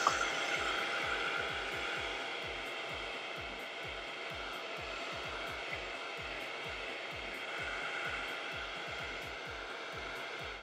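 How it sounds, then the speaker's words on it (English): Handheld blow dryer on low heat with the back of it covered by a palm, giving a steady airy roar with a fast rhythmic pulsing flutter underneath, close and continuous for the whole stretch with no talk. "grab your blow dryer and you cover the back of it with your palm"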